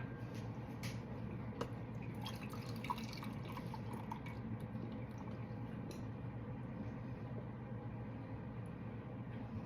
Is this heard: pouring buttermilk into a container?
yes